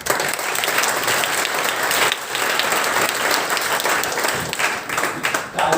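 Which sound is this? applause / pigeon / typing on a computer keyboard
applause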